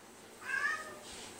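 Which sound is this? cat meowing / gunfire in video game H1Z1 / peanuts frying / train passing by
cat meowing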